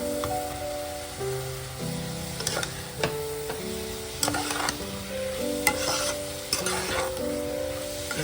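Fried potatoes are stirred into bok choy greens sizzling in a pan, with steady frying hiss under repeated scraping and clacking strokes of the spatula, close and fairly loud.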